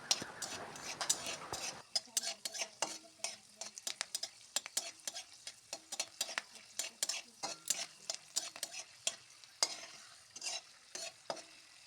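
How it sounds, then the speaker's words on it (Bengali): Peanuts frying in hot oil in a wok, a quiet sizzle under repeated scraping and clinking of a metal spatula against the pan, irregular taps scattered throughout. "আর একটা কড়াইতে তেল গরম করে অল্প কয়েকটা বাদাম ভেজে নেব।"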